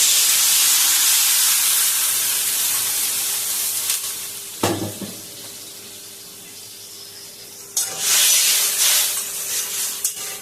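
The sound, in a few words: water added to hot pan, steaming and hissing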